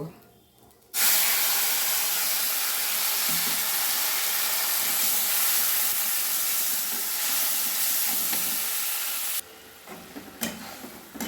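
Ground spice paste drops into hot oil after a cumin tempering and erupts into a loud, sustained hiss and spray that stays steady for several seconds before cutting off abruptly.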